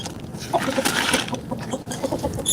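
Free-range country chickens on a city rooftop terrace cluck and chatter in a close, busy flock, with soft scratching and rustling beneath their calls.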